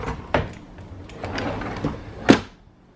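A kitchen drawer full of spatulas, whisks and spoons slides open with a rattle and is pushed shut with a sharp close-up knock, two distinct bursts about two seconds apart.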